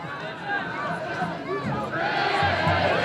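Sterling football fans at a 2017 high school game against Haddonfield cheer and shout in a steady crowd roar that swells louder in the final second, with a commentator talking over it.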